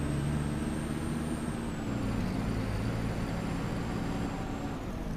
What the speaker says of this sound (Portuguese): Esse ônibus aqui também tá com um som de escape